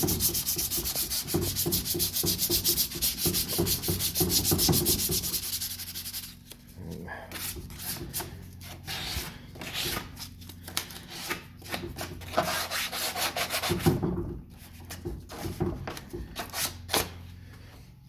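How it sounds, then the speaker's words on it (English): Wood on an old secretary hutch is sanded with a rapid scratchy back-and-forth that is steady and close at first, then turns into shorter, irregular hand-sanding strokes with pauses. "so we'll go over and hand sand it"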